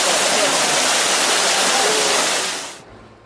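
Loud, continuous rushing of a Grand Canyon waterfall near Stone Creek, a full broadband roar that cuts off abruptly near the end.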